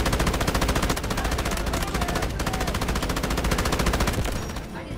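A light machine gun in the video game Garena Delta Force fires in a long, rapid, continuous burst, loud and close, with the sustained rattle of shots filling nearly five seconds before tapering slightly.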